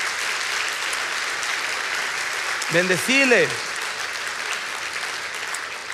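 Congregation applauding in a church during a Spanish-language sermon, a steady wash of clapping throughout while a preacher's voice rises briefly over it.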